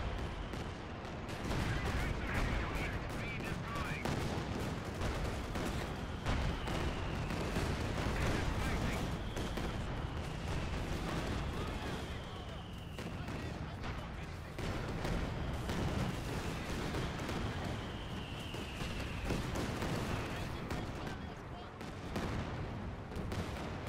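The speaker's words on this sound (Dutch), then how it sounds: "Die kanonnen zitten ook van de zijkant te ragen" Cannons firing in the World War II strategy game Company of Heroes 2, a continuous barrage of booming shots and gunfire rumbling at steady loudness, with repeated whistling shell sweeps overhead.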